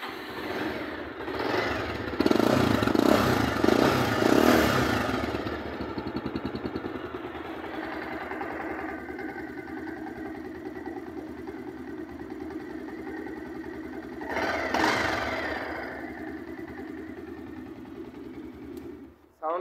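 A 2021 model motorcycle with 12,000 on the clock, in fresh condition, runs steadily close by, its engine note swelling in louder bursts early on and again briefly near the end.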